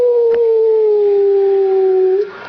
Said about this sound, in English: Come on, let's howl.